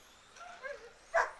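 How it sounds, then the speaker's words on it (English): A dog gives a couple of short, faint yips and barks at a 1/10th scale touring car race track during practice, the last one sharper and a little louder. "And that's a dog."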